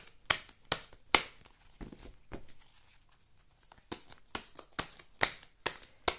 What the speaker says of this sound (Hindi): चलिए बहुत शफल किया